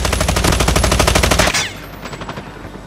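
RUS-79U submachine gun in the video game Call of Duty Mobile fires one loud, rapid automatic burst for about a second and a half, then stops abruptly and leaves a quieter tail.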